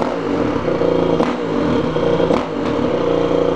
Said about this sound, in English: So this RX stock exhaust sounds really good